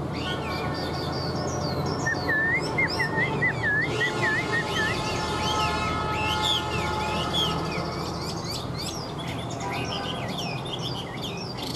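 A Chinese hwamei songbird with a yellow beak sings a long, varied run of loud whistled phrases and trills close by, over a steady background hum, with no talking.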